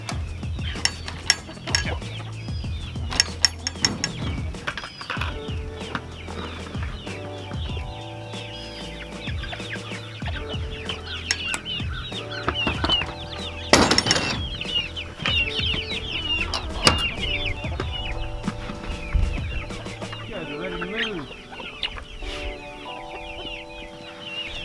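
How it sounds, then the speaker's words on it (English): Young chickens cluck and chatter steadily throughout, with a rooster-like call now and then, and some farmyard clatter and rustling close by. "These chickens, you can tell they're young."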